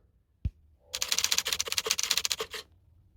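Rapid typewriter-style key clacks for an animated text effect on a phone, a dense run of sharp clicks lasting under two seconds after a single soft thud, with no talking.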